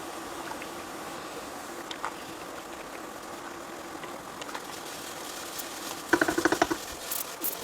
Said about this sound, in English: Okay, so it's full on boiling now.